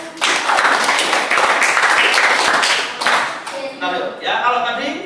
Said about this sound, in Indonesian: Tepuk tangan buat Rio